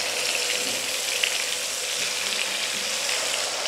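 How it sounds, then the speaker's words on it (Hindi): Chicken tikka leg pieces frying in a pan of hot oil, an even, continuous close sizzle and hiss that stays at a steady level throughout. "चिकन टिक्का पीसेस, इनको हमने फ्राई करना है। तो उसके लिए हमने एक पैन लिया है, इसमें हम ऑयल ऐड कर देंगे"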